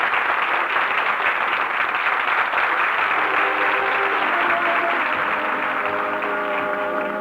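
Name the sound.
theater audience applauding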